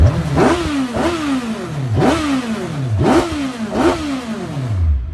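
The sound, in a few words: Hayabusa engine revving in MK Indy RR car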